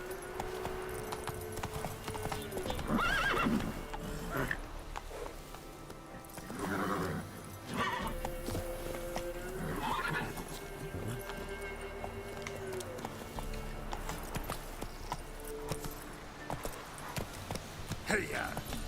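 A horse in The Witcher video game gallops with steady clip-clop hoofbeats and lets out several loud neighs and whinnies, while someone speaks briefly over the action.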